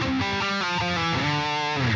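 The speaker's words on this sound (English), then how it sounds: "Whereas if there's two chords, the melody might sound something like this." A heavily distorted electric guitar plays a lead melody that moves across two chords, with bending, shifting notes and a steady, loud, saturated tone for about two seconds, played alone.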